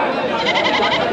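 Goats bleat loudly and close at a sheep and goat market near Magadi, overlapping wavering calls filling the moment.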